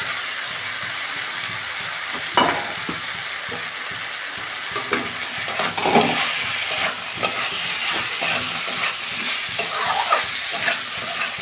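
Elephant foot yam and potato pieces fry in oily spice masala, a continuous close sizzle broken by repeated scrapes and knocks of stirring.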